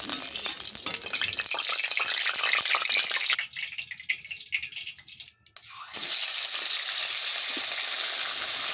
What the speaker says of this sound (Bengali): পরপর করে সব কটা মাছ ভেজে নিচ্ছি